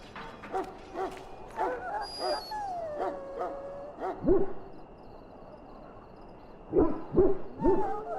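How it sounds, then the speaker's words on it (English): A dog in a pen in the video game Dragon Age, giving soft whimpers, yips and short whining cries in scattered bursts, with a longer drawn-out whine in the middle and a cluster of yelps near the end. "Now I can treat the dog properly, poor fella."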